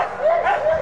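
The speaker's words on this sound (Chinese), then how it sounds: "像这样子由7只哈士奇在前面拉着雪橇带您环游这个 Snow Park 一圈" A team of seven huskies pulls a sled around a snow park, giving short yips and barks in quick succession, fairly close.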